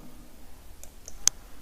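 A mouse click sounds in circuit simulation software, a couple of faint, quick ticks in a quiet room, the last one sharper and louder.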